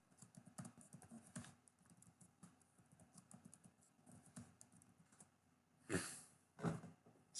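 A computer keyboard clatters close by as someone types an email and password, quick irregular keystrokes with a couple of louder clacks near the end, quiet room around it.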